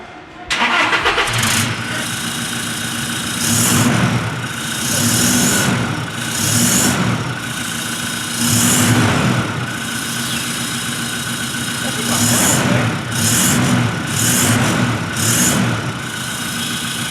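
A Toyota Hilux pickup's throaty aftermarket exhaust starts up, then idles with a deep rumble, punctuated by several short revs, loud and close.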